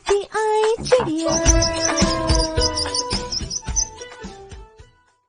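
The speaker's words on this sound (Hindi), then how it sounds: "चू चू करती आई चिड़िया।" Sparrow chirping in a Hindi children's rhyme: bright, clear tweets and whistled call notes in quick, repeated bursts, close and loud, fading out toward the end.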